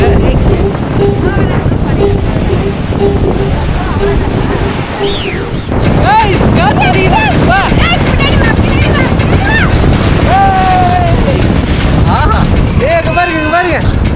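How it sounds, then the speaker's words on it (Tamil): Strong Cyclone Fengal wind blasts across the beach with crashing waves, a loud, constant roar close to the microphone, and people shout and talk over it. "ஆஹா புயல் காத்து வருகிறது."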